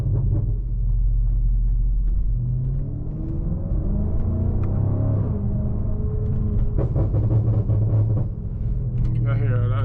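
A deep, throaty engine rumble from a Stage 2 tuned, roughly 700-horsepower BMW G30 M550i drones continuously from inside the car while driving, rising slightly in pitch at moments, with faint ticking sounds near the end.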